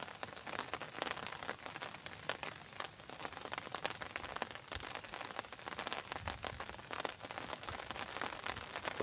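Steady rain patters on a surface by a river while fishing, a dense, even crackle of drops that continues without a break, fairly soft and distant, with wind.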